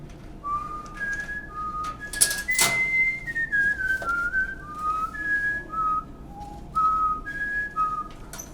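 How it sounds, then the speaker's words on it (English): One person whistles a meandering melody in a high, clear tone, phrases rising and falling in short runs, alone, with no talking. "Pretty much I've been whistling for as long as I can remember."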